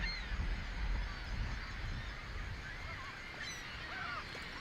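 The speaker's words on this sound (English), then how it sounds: "Millions of birds in flocks so enormous, they blanket the sky on radar images." Honking calls from a flock of migrating geese carry through a steady outdoor hiss, scattered faint cries overlapping without voices.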